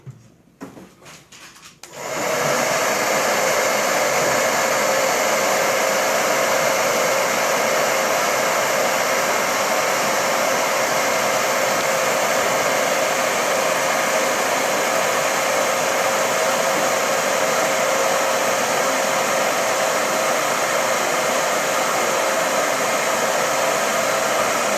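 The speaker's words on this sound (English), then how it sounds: "An advantage of using the blow dryer is it's not as hot as a heat gun" A blow dryer runs at a steady, loud whoosh to heat a Samsung Galaxy Note 4 before opening it, starting after a brief quiet moment and continuing unbroken with no talk.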